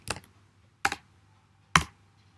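Three separate keystrokes on a computer keyboard, each a sharp, close click spaced almost a second apart, as a terminal command is typed to set up a Laravel 8 project, with quiet between strokes.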